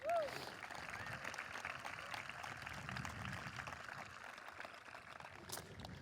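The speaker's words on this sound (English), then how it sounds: "Please, a round of applause for them." An audience at an eighth grade celebration claps for the teachers, a dense, steady wash of applause from a crowd that carries on for several seconds at moderate loudness.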